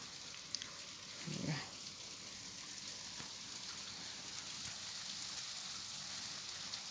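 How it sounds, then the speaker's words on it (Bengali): Light rain on a cloudy winter day, a soft, even patter and hiss on surfaces at a distance, low and continuous, with a brief animal-like noise early on and no speech. "এই যে বৃষ্টি না, অত ঝপঝপ করে হচ্ছে না, হালকা বৃষ্টি হচ্ছে।"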